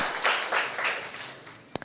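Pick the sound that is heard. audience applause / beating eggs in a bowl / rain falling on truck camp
audience applause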